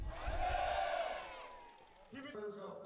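At a March 1st independence commemoration at Jocheon Manse Hill in Jeju, a crowd lets out a loud collective 'manse' shout that swells and then fades, followed by a brief, quieter mix of sounds.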